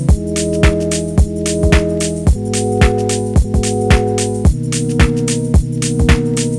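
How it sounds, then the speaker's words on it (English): A dusty house drum groove made in Ableton Live pairs a steady four-on-the-floor kick and crisp hi-hats with a sustained chord pad that holds and shifts chords every couple of bars, played loud and clear with no voices. "I made a dusty house groove and added a pad sound to it,"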